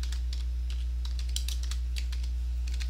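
Quick bursts of typing on a computer keyboard, irregular clusters of light key clicks over a steady low hum, no talking.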